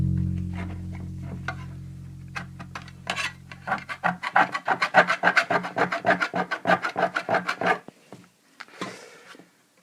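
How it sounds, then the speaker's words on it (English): Acrylic paint is scraped off a wooden surface in a quick run of rhythmic rasping strokes, each one short and close. A low hum opens the sequence, and a few slower scrapes follow at the end. "It's not scraping readily."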